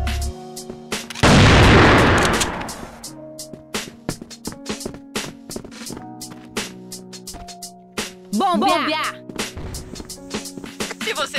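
A grenade goes off in the CrossFire shooter, a loud close burst of noise early on, followed by scattered gunfire clicks and game effects, with voice chatter in Portuguese around it.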